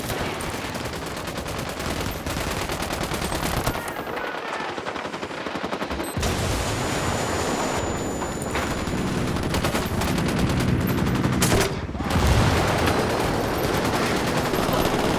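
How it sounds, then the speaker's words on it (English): Sustained automatic gunfire from enemies at a camp in Ghost Recon Wildlands, dense and loud throughout with overlapping bursts and shots, brief lulls, and heavy battle noise filling the whole span. "Taking fire from the camp."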